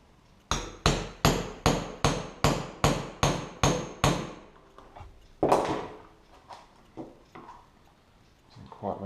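A hammer drives a leather punch into a cork block while a wet-formed leather pouch is being made: about ten sharp, evenly spaced strikes close up, then a few scattered softer knocks and handling noises.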